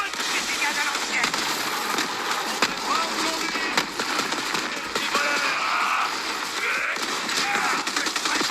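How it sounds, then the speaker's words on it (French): Rapid gunfire crackles through a gunfight in the Borderlands video game, dense bursts of shots running throughout with voices talking over them. "Une bonne fusillade à l'ancienne."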